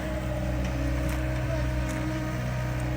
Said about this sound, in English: What do you think about that skid steer, Sophia?